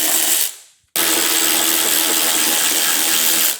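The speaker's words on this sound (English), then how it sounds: "If you're using a power tool like me, just break it first, and then work" A power tool whirs loudly up close while backing out 3/16 hex head screws during a headlight install on a 2022 Road Glide motorcycle, winding down briefly before starting again in a steady buzz.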